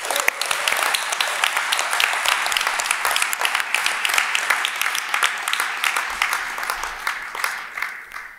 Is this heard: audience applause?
yes